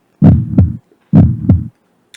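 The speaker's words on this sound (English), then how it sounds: "Heartbeat in the background." Two double heartbeats thump close and loud, a deep lub-dub pattern repeated once after a short pause, followed by a faint high blip.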